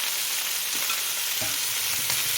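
Boiled carrots fry in an oiled pan, making a constant close sizzle with faint scraping and stirring sounds, and no voices over it.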